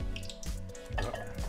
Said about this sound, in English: We're gonna lift the eggs out of the oil.